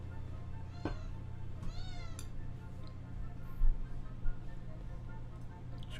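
A house cat meows a few times indoors, its short calls rising over a steady low hum, with occasional soft knocks and faint sounds in the background.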